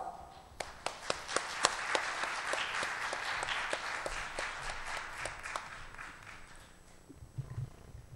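An audience at a technology talk applauds to welcome a speaker, with crisp individual claps at the start swelling into sustained, moderately distant applause that fades out near the end.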